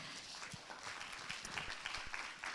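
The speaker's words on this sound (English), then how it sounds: "Please give him a round of applause." Audience applause at a conference breakout session on midlife women's mental health, soft and somewhat distant clapping with scattered individual claps, quietly sustained across the moment.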